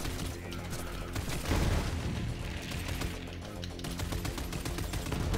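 Automatic gunfire from a recoil-heavy gun in Borderlands 3 chatters in fairly steady bursts under game noise and effects, moderately loud and close.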